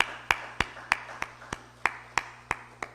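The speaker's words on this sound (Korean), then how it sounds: "우리 같이 함께 박수하겠습니다." Sparse, scattered claps ring out in a church service as a few congregation members applaud, about ten separate sharp hits at a steady uneven pace over a low hum, with no chorus of full applause.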